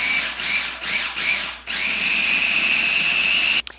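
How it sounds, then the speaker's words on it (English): A blender grinds spinach pistou with lemon juice and olive oil, starting with three short pulsing whirs before settling into a loud, steady high-pitched motor whine that stops abruptly. "And then I'm going to grind this up until it's nice and smooth."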